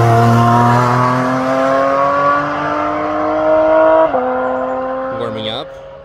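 A Porsche GT4 RS sports car drives on a race track, its engine note holding a steady tone before shifting near the end, loud and close with a rising whine at the finish.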